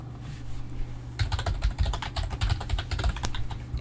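Computer keyboard keys tapped in a fast irregular run that starts about a second in, close-miked clicks over a constant low background hum, with no speech.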